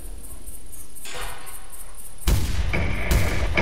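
Hunting rifle shots in TheHunter, a hunting video game, ring out as sharp broadband blasts over a steady game ambience, with two loud cracks about a second apart near the end.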